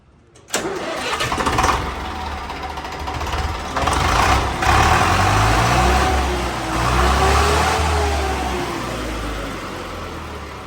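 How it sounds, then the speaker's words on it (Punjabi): A Sonalika tractor engine, checked after a pump blew its gasket, cranks and catches, then settles into a loud, steady diesel rumble with slight rises in revs, close by and without speech. "ਸਟਾਰਟ ਕਰਕੇ ਤੁਹਾਨੂੰ ਸਾਊਂਡ ਵਗੈਰਾ ਚੈੱਕ ਕਰਾ ਦੇਣਾ ਟਰੈਕਟਰ ਦੀ"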